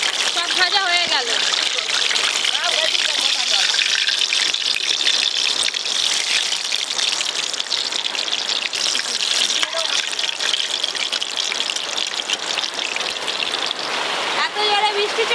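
Heavy rain pours in a steady, dense rush, with voices talking over it throughout.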